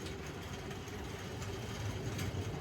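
OO gauge model railway train hauled by a K3 locomotive running on track, a continuous low rumble and whirring motor hum, moderately loud and steady with no talk.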